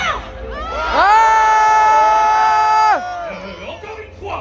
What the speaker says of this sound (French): Allez, à 3, criez, hurlez, envoyez vos pouvoirs